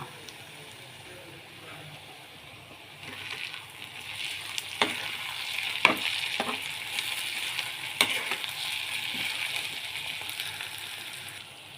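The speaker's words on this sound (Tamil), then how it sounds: "உப்பு கொஞ்சம் போட்டு நல்லா வதக்குங்க." Salted onions sizzle steadily in a hot frying pan, occasionally stirred with a few sharp scrapes and taps of a utensil, close up.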